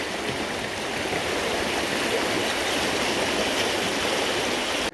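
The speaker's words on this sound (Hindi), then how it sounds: "देखिए कितना पानी लगा था, आपको समझ में आ रहा होगा ये पानी रास्ते का है" Floodwater streams across a village road in flood-hit Jawaniya village, a steady, loud, continuous rush of moving water that runs unbroken throughout.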